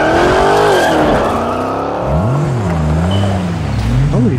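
Saints Row video game car driving hard, its engine revving up and down in rising and falling sweeps with a tire skid near the start, loud and close, with no talking.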